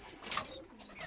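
A pigeon kept by a household flock coos once, a brief soft call with a faint chirp nearby, heard close and alone without speech.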